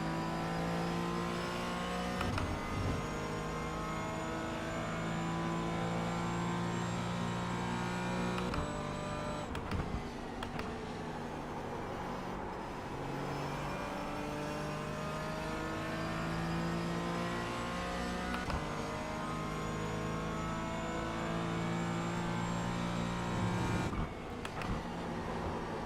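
Race car engine on a fast lap at Silverstone in a sim racing game, a loud sustained whine that climbs through the gears with short dips at shifts and braking, and no talking.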